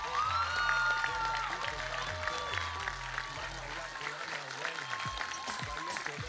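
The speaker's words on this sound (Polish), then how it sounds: "Jeszcze raz wielkie brawa dla wszystkich uczestników." Audience applause at the Mister Polski 2020 final gala, a dense sustained wash of clapping with light crowd noise under music and overlapping voices, fading somewhat toward the end.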